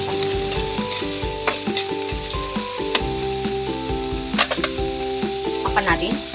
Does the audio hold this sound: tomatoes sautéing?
yes